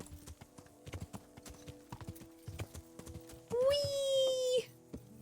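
Rhythmic clip-clop of horse hooves in the medieval game Kingdom Come: Deliverance, a steady trotting gait with a loud horse whinny partway through over a faint game soundscape.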